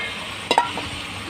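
Dried fish with spices frying in a pan, a steady close sizzle broken midway by a couple of short scraping stir strokes, with no voices.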